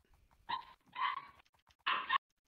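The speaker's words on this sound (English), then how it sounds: "I hear puppies." Puppies in a fantasy dungeon video game give three short whimpering yelps, high and whiny, separated by brief pauses in otherwise quiet sound.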